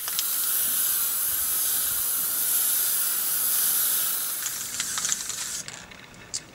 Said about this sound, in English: Okay, so I finished spraying